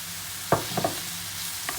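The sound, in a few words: ginger garlic paste and tomato sautéing in a pan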